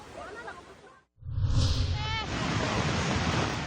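Floodwater from an overflowing river in Maasim, Sarangani rushes with a loud, steady broadband roar after a brief gap, with talk faintly audible over it.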